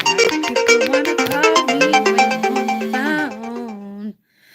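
A phone ringtone plays a bright, rhythmic melodic tune, loud and close, with repeated chiming notes before settling on a held tone that cuts off.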